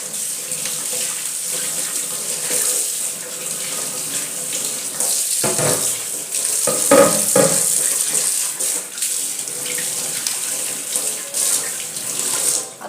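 Running tap water pours steadily over a new cast iron griddle as it is washed, close and fairly loud, with brief heavier splashing bursts midway and no talking.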